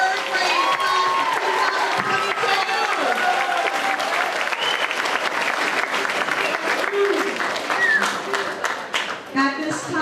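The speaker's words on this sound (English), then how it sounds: "Can we have a round of applause" An audience at an elementary school third-grade choral concert claps loudly and steadily, with scattered cheers and children's shouts mixed into the sustained applause.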